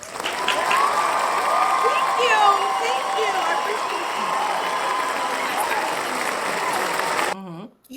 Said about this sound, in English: Let me give myself a clap.